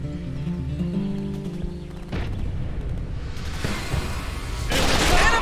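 Enemy gunfire in the squad shooter Raven Squad, with bursts of shots and booms building over a low rumbling battle bed, getting louder and denser toward the end.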